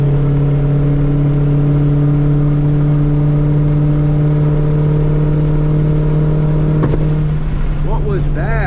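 A 2004 Mustang GT V8 cruising in fifth gear on a road at night, a loud, steady low engine drone with even harmonics that holds constant, then briefly shifts near the end.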